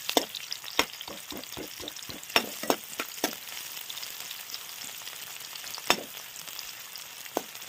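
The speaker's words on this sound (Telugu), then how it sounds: "నూనె వేడైనాక కొన్ని ఉల్లిగడ్డలు వేసుకోవాలి" Finely chopped onions sizzle steadily in hot oil in a pan for mutton boti fry, a continuous crackling fry broken by sharp scraping clicks of stirring, close and alone with no talk.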